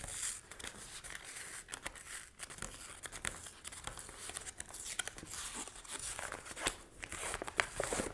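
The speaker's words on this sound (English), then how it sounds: "peel back the liner paper on the inside" Paper liner is peeled and torn away from reclaimed bookboard for DIY bookbinding, a continuous close-up ripping and crinkling with uneven bursts and small cracks.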